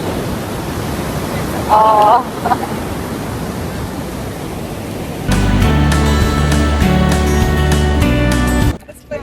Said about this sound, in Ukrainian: Гляньте, які хвилі.